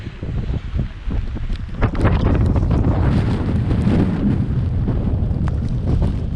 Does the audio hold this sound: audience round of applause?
no